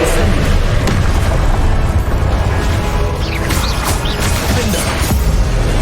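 Confringo fire blasts from a Hogwarts Legacy spell battle come as dense, loud booming bursts over a constant roar of combat noise, with crackling impacts layered throughout.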